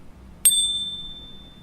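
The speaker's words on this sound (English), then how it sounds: "First showing click sound." One bright, ringing bell-like ding from a subscribe button animation sounds once and fades slowly against quiet.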